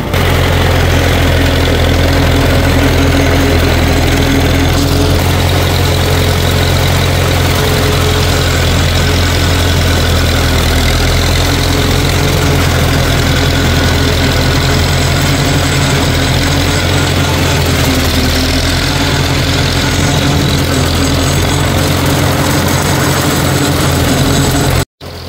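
A big diesel tractor engine, used for mowing tall weeds, runs loud and close for a long stretch, a heavy, steady low rumble with constant knocking, then cuts off abruptly.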